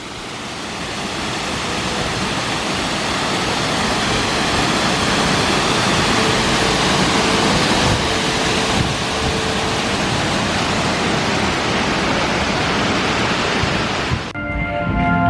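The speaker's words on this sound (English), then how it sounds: "a beautiful waterfall up here" A waterfall at Epcot roars as a loud, steady, broadband rush of falling water that runs unbroken throughout.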